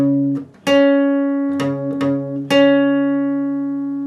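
Clean electric guitar plays a slow riff, four distinct picked notes or chords ringing out with sustained harmonics, loud and close with no voice.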